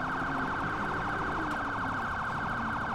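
Police car siren in GTA IV wails in a steady, fast oscillating sweep, loud and continuous throughout with no talk over it.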